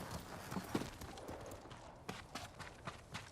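Hooves clip-clop from a horse in the Ghost of Tsushima video game, a quick, uneven run of soft thuds at moderate distance, with faint game ambience and no talk over them.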